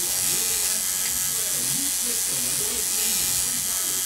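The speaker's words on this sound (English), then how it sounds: "We dip the machine in the pigment, and then basically it holds it in there like a reservoir, and then it goes back and forth." A tattoo machine buzzes steadily and close while needling pigment into skin, its electric whine running unbroken throughout, with someone talking over it.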